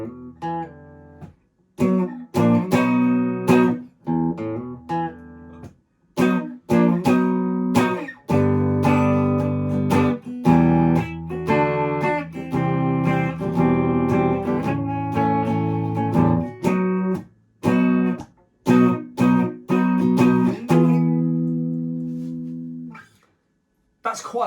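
Chorus of a song as on the studio record, a full-band rock mix with electric guitar and punchy drum hits driving a steady beat for about 24 seconds, loud and continuous with brief gaps.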